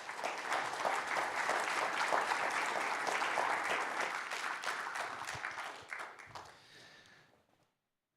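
An audience at the CLMS General Assembly 2025 conference gives the session speakers warm applause, a full steady round of clapping that thins out and fades to silence near the end.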